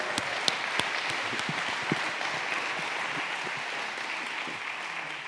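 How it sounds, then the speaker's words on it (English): An audience at a TEDx event inside a correctional center claps for a speaker, a steady dense applause sustained through the whole stretch with a few sharper individual claps near the start. "Let's give him a great big round of applause."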